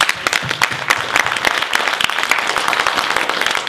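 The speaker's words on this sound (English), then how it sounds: "A big round of applause." Audience applause ringing out at an evening welfare reform community meeting, a dense, steady burst of many hands clapping close by with a few occasional voices underneath.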